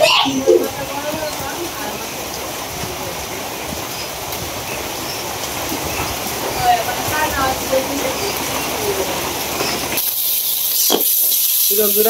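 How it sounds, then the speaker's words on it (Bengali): Steady rain with gusting wind on a rainy morning in a rural home, a continuous hissing wash throughout, with a voice speaking faintly at the start. "আবার বৃষ্টি শুরু হয়েছে বৃষ্টি বাতাস আর বৃষ্টি"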